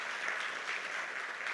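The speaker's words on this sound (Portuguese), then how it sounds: "Vamos aplaudir essas pessoas" Church congregation applauding visitors, a steady wash of many hands clapping at moderate distance, fairly soft and even throughout, no voices over it.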